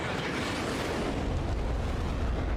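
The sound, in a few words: explosion of destroyed radar vehicle in Ace Combat 7 video game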